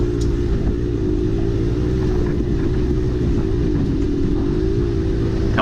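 A KTM dirt bike with a freshly rebuilt top end races on a motocross track, its engine holding a steady, loud, continuous drone close by with no pauses and no talk.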